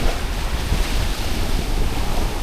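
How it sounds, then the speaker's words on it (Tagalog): Heavy ocean surf crashes around Vase Rock on Xiaoliuqiu, a loud, constant roar of waves mixed with strong wind buffeting the microphone. "mataas yung wave"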